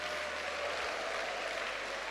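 Applause from a church audience, a dense, even patter of clapping that carries on without a break at moderate loudness.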